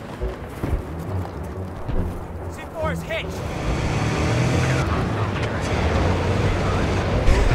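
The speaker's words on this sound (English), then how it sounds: "Oh, there's a tank." A tank engine in Battlefield 3 rumbles low and steady through a battle scene, with engine drone, scattered game noise and clanks building over several seconds.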